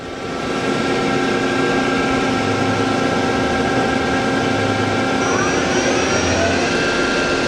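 A Doosan Lynx 300 CNC lathe from 2010, with 3-inch bar capacity, runs its spindle at 2,000 RPM. It gives a loud, steady mechanical whine with tonal hums, and the pitch rises slightly near the end. No one speaks over it.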